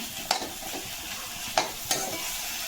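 Leafy greens fry in a pan with a low, even sizzle while a spoon scrapes through them in three distinct strokes, close and clear with no talking.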